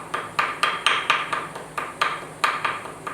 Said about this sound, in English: you just take your little ball peen hammer and just